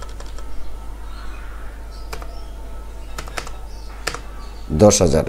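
A computer keyboard clicks with scattered keystrokes and a few louder key presses, then a quick burst of taps near the end, close and clear.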